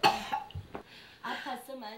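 A woman suffering frequent coughs with pneumonia-like symptoms lets out a few harsh, close coughs in quick succession, followed by a voice speaking.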